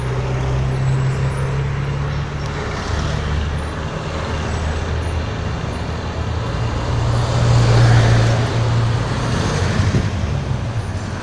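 Taxis and other street traffic roll by on a road in Baguio, Philippines, a continuous engine rumble and tire noise swelling as a vehicle passes close, then easing off, with no talk.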